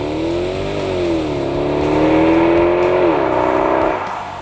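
A powerful Jaguar XKR engine revs loudly and steadily, its pitch rising and dipping as the throttle is worked, a deep throaty exhaust roar throughout.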